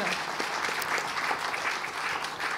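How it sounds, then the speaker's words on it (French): Steady applause from the audience at a French defence round-table discussion, a continuous dense patter of many hands at moderate distance, even in level throughout. "On peut applaudir Héloïse Comte pour ce partage."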